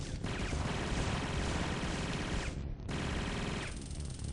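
Sustained automatic gunfire in a video game rattles loud and dense for several seconds. It breaks off briefly, then resumes in a rapid, continuous burst.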